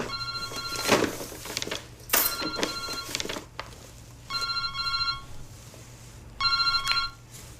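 A telephone rings in a home in several repeated trilling bursts, clear and fairly loud, with short pauses between rings and no talk over it.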